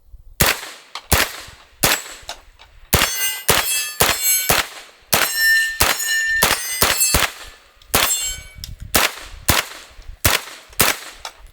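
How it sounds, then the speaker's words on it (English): A rapid string of 9mm shots from a PSA AR-V, each followed by a ringing metallic clang from a steel target at an outdoor range, in bursts with brief pauses, loud and sharp. "we're just gonna go mag dump here on the steel"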